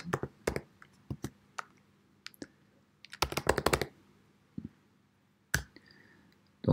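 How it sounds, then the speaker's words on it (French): Short bursts of typing on a computer keyboard as a search is entered, crisp close key clicks in quick clusters separated by quiet pauses, no voices. "je vais taper t-shirt"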